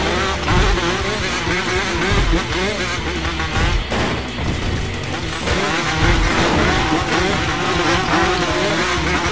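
Loud, continuous motorcycle engine roar from the racing game McGrath vs. Pastrana, revving and whining up and down, with occasional crash-like thuds and tire noise.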